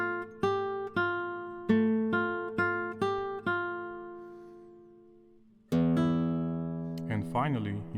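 Classical guitar tremolo from Lecuona's Malagueña: a series of rhythmically repeated plucked notes decaying in turn, then a fuller strummed chord ringing out, close and clear with no talking.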